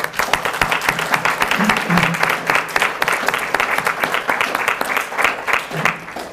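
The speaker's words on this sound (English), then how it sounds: "Let's give him a round of applause." A crowd at a political party dinner applauds with steady, dense clapping that carries on for several seconds, fairly close and loud.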